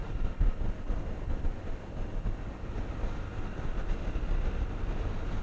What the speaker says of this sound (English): The wind and the Honda engine combined.